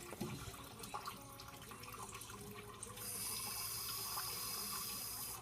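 Water trickles and runs steadily from a condensate drain line, a continuous splashing flow that grows broader and louder partway through, with no voices.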